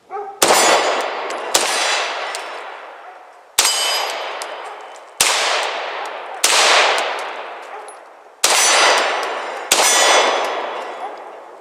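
Seven Beretta M9A3 pistol shots ring out on a steel silhouette target, each a sharp crack followed by a bright metallic clang that rings and fades, spaced irregularly one to two seconds apart, loud and alone.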